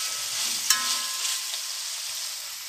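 Onion with ginger-garlic paste sizzles in a pan, a steady bright hiss of sautéing with a single sharp stir or scrape near the start, close and continuous with no talking.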